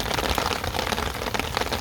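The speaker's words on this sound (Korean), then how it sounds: "이제 다시 비가 쏟아지고 있습니다." Heavy monsoon rain pours onto a rooftop garden of potted roses and balsam flowers, a dense, loud, continuous hiss of drops hitting pots and the floor, with no talking.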